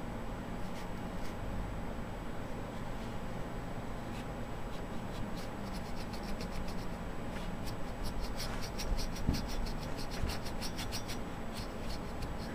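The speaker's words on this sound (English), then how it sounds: "You guys are going to get to watch me clean out a nasty cooler using a paintbrush" A paintbrush scrubs dust out of a dirty CPU cooler, a steady soft scratchy brushing with rapid bristle strokes against metal fins, close and quiet, with no voices.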